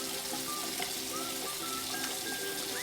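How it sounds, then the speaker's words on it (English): Water runs and splashes steadily at a bathroom sink while a face is rinsed during a shave with a LEAF razor, a continuous close wash of sound with no voices. "get some water on my face"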